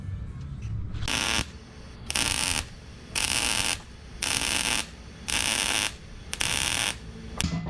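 Welding a steel bumper for a Toyota Tacoma: six roughly one-second bursts of harsh, crackling buzz from the welder, separated by short quiet pauses, loud and close with no talking.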